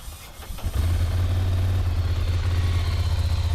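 A motorcycle engine with a stock exhaust starts up and settles into a low, steady idle with a soft, muffled exhaust rumble, close and continuous.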